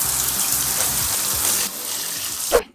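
Queen Anthurium stem cuttings laid on soil get a quick shower as water gushes steadily from a tap or spray, then cuts off abruptly, followed by a brief knock near the end.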